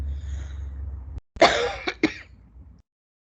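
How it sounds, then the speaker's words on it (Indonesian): Someone coughs after choking during a lecture: a low breathy lead-in, a brief pause, then one harsh close cough followed by two shorter cough bursts, loud and alone. "saya keselak bukan karena COVID ya batuknya"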